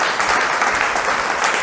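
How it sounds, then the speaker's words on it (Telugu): A church congregation claps loudly together in praise, a dense, steady burst of applause close by with no voices over it. "నమ్మిన వాళ్ళు గట్టిగా చప్పట్లు కొట్టి ప్రభువుని స్తుతించండి"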